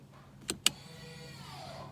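An electric parking brake engages at the rear wheel of a Mazda CX-30, giving two short, sharp mechanical clicks or whirs in quick succession, followed by a low steady background hum.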